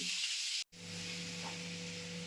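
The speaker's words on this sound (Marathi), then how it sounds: "बटरचे क्यूब्स टाकून घेऊया आणि ह्याला चांगले फ्राय करून घेणार आहे" Butter cubes with a spoon of oil frying in a pan, a steady bright sizzle and hiss, faint and close, broken by a brief silent cut, no talking.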